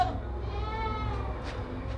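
A healthy young goat of good breed bleats once in a drawn-out wavering cry at a livestock sale, with faint background noise and no clear speech.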